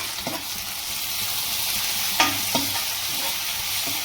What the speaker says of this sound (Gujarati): ટમેટાને આ રીતે મિક્સ કરી નાખવાના છે.